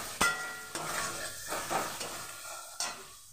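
Spice masala fried and stirred in a pan for dahi aloo, soft sizzle with a few sharp utensil knocks and scrapes against the pan, close but quiet, no voices.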